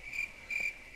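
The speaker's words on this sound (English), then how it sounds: "Someone cue the crickets." Crickets chirp steadily in a quiet room in The Walking Dead video game, a high, pulsing trill that swells in two short bursts and stays faint, with no talk over it.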